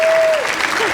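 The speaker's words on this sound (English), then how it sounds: "give her a round of applause." Audience clapping fills a keynote hall at a child care group conference, steady dense applause throughout with a faint tone fading beneath it.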